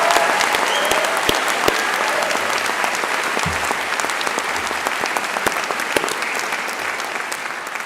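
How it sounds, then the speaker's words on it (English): Sustained, dense applause from a large audience at a university graduation ceremony for the Business, Law and Social Sciences faculty, steady and loud throughout with no talk over it. "Good round of applause for Laura, please"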